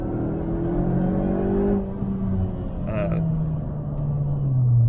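Cabin sound of a supercharged Mazda 6 driven at partial throttle, a moderate engine drone and road rumble with the pitch rising and falling through gear changes, steady and fairly quiet, no talk.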